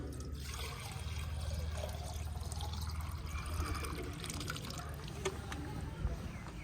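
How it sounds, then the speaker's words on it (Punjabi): Water trickles and pours steadily into a container for pet pigeons, a continuous close liquid flow with a faint low hum underneath and occasional small clicks. "ਪਾਣੀ ਪਾ ਦਈਏ ਨਾ ਇਹਦਾ"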